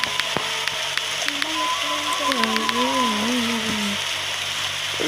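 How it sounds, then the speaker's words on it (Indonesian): Rain falls steadily in a video game garden, an even hiss of drops that runs the whole time under a gentle melodic tune from the game. "pas banget nih hujan"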